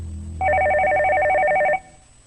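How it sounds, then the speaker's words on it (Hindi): A telephone rings with a rapid warbling electronic trill, one sustained burst of about a second and a half, close and clear over a low background hum. "राहिला का फोन है, अल्लाह करे सब खैरियत हो।"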